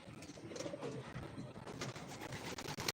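Released pigeons give soft, low cooing calls close by, repeated in short rolling bursts over a faint outdoor background.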